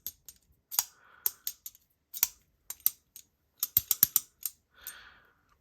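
A loose, rattly button lock folding knife is shaken in the hand, giving a series of sharp, close metallic clicks and clatters in irregular bursts.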